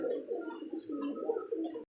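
Pigeons at a pigeon seller's loft coo and chirp in a steady, close chorus for about two seconds, overlapping calls with no talk.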